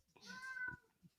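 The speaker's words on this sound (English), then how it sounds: "Right on cue, my cat came out" A domestic cat lets out one drawn-out, rising and falling meow close by, followed by a brief softer sound before quiet returns.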